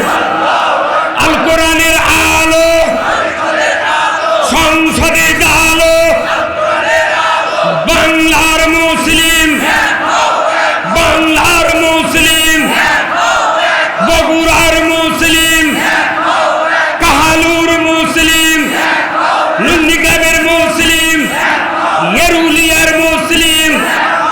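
A large crowd at a political rally roars the takbir chant, loud massed voices shouting in repeated bursts with short pauses between each call, filling the space continuously.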